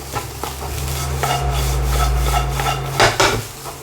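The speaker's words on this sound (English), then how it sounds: "I'm adding all the Chinese sausage and the scrambled egg back into there for a final stir" Spatula scraping and stirring fried rice with Chinese sausage and scrambled egg in a pan, a steady close rubbing and scuffing with a few louder knocks near the end, no voices.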